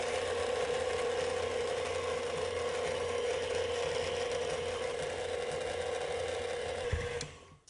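An electric mixer churns gooey butter cake dough made with egg and flour, a continuous close mechanical whir that winds down and stops near the end.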